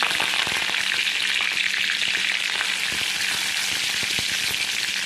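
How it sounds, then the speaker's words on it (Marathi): Curry leaves crackle and sizzle in hot oil over a lowered gas flame while a Marathi-style tempering is prepared, a steady, dense frying hiss running throughout with small pops and spatters. "तेल गरम करत ठेवलेलं आहे गॅस थोडा बारीक करते मी त्याच्यामध्ये टाकते कढीपत्ता छानपैकी असा"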